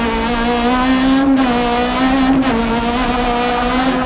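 A 1995 Renault Clio Maxi rally car pulls hard uphill, its engine droning loud and close with steady harmonics, briefly dipping at a quick gearshift before climbing again.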